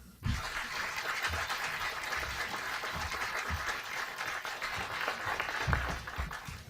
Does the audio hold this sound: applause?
yes